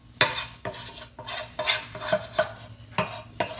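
Chopped vegetables stirred into hot bacon grease in a pot while making potato soup, with repeated scraping utensil strokes against the pot and a soft sizzle underneath, close and rhythmic.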